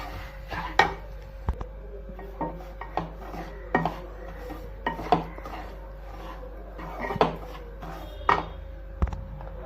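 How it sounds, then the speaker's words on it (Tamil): Semolina (rava) stirred and roasted in a pan for rava idli makes a soft scraping and rasping, with regular spoon-on-pan knocks spaced about a second apart over a low steady hum and no talk. "இந்த ரவையை போட்டு இதோட நல்லா வறுத்து எடுத்துடலாம்."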